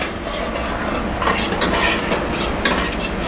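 About 250 grams of tomato puree sautéing in a pan for restaurant-style chole, with a spoon scraping and clinking against the metal over a soft sizzle, close and fairly loud, in uneven strokes.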